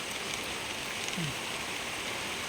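Steady rain falling outdoors in a garden of ornamental plants, a continuous even hiss with no voices, heard alone.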